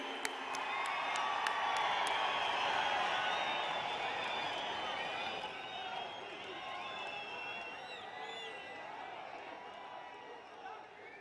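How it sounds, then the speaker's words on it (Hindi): Audience at a Panchayati Raj Day event in Jammu and Kashmir breaks into loud, sustained applause and cheering for the Prime Minister, a dense crowd roar that gradually eases off. "आपकी जोरदार तालियों में माननीय प्रधानमंत्री जी।"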